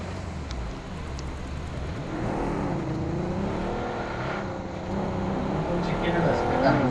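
A vehicle engine in the BGMI battle royale game drones and revs steadily and rises in pitch as it speeds up, under ongoing player chatter.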